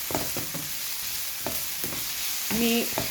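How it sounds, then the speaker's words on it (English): Broadband sizzling hiss from onions sautéing in a frying pan, with a few soft clinks of a utensil stirring and one brief tonal scrape near the end. "frying my onions, or when I'm sauteing my onions"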